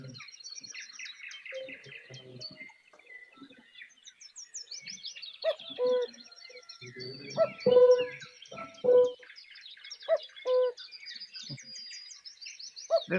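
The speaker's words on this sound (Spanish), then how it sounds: "Acá está el cuco." A cuckoo's spaced, mid-pitched two-note calls sound out among busy high chirps and trills of other birds, fairly close and clear, with no talking.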